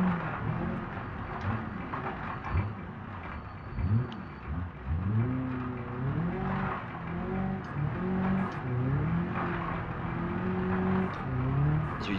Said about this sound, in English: So we just drive it completely sideways down the hill here.